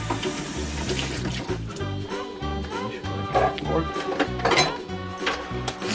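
Water runs from a kitchen tap for rinsing after cracking an egg, a continuous splashing stream under steady talk and some background music.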